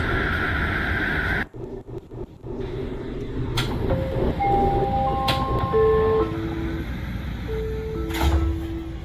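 Roblox video game recreation of a SkyTrain Expo Line train running, with a rumbling rail drone, a short dropout, and a series of tonal chime notes sounding over the moving train.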